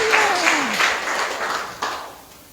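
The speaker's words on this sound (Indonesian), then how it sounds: "Tepuk tangan yang meriah bagi Tuhan Yesus" A church congregation at a Sunday service claps together in a brief burst of applause. The clapping starts over a fading voice, stays fairly loud, then thins out and dies away near the end.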